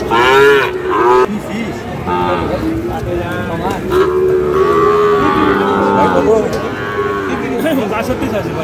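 Sahiwal breed calves moo loudly and repeatedly at a busy cattle market, long drawn-out bellows overlapping one another close by, with crowd noise underneath.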